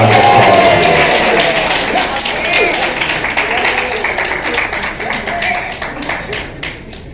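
Banquet guests at a beauty culturists' league gala give a round of applause, clapping loudly at first and then thinning into scattered, tapering claps as the room settles, with a faint voice or two underneath.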